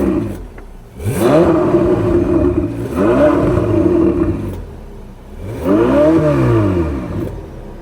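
Ferrari 488 engine revving in three surges with rising and falling pitch, loud and close, separated by brief drops back toward idle.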